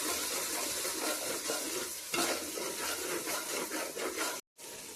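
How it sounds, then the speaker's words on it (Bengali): Turmeric and chili powder masala being sautéed in a pan for chicken pulao, continuous sizzling with steady spatula stirring and scraping, close, with a brief cut near the end. "এবার ভালো করে কষিয়ে নেব।"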